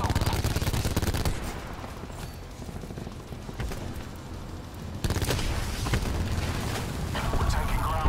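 Rapid bursts of gunfire and booms from Call of Duty Black Ops 4 go on throughout, dense and layered, with a sharp louder burst near the end and voices speaking beneath the shooting.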